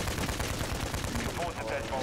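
Rapid gunfire from shooting zombies in Modern Warfare 3 Zombies, dense continuous bursts filling the short stretch, loud and close, with some voice-like tones toward the end.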